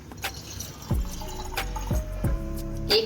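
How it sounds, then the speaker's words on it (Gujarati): Water is poured into a cooking pot of brinjal and potato curry, a light splashing and dripping flow with a few low glugging bursts, close and moderately loud. "સવા ગ્લાસ જેટલું પાણી નાખ્યું ભાઈ."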